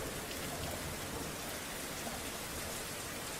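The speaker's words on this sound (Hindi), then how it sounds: "मूसलाधार बारिश हो रही है," Heavy pouring rain falls on a dark night as a dense, even hiss that stays constant throughout, with no voices or other sounds.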